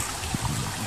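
Water poured into a protein shaker holding a scoop of hemp protein powder, a short steady splashing trickle close by with no talk.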